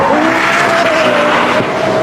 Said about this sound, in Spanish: Se utilizaron sonidos increíblemente potentes de motores V10 y VD12.